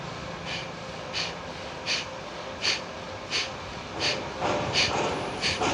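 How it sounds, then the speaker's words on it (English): Forceful, sharp exhaled breaths snorted through the nose in a steady rhythm during a core-focused twist exercise class, about eight bursts close to the mic, speeding up toward the end. "Like you're snorting fire like a dragon, right? You're breathing out every time."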